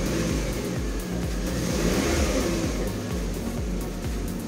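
A Peugeot with an AL4 automatic gearbox idles under light throttle while warming up, its engine giving a close, steady mid-pitched drone with a regular pulsing rhythm throughout.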